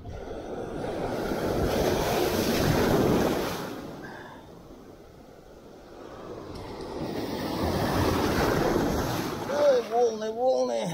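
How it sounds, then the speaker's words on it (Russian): Sea surf breaks on the shore at Ashkelon during a fishing outing, the broad wash swelling, fading and swelling again, loud and close with wind buffeting the microphone; a voice is briefly heard near the end. "Ой, волны, волны."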